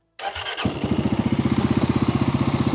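A Segway ATV engine cranks briefly, then catches and settles into a loud, steady, rapidly pulsing idle close by, with no talking.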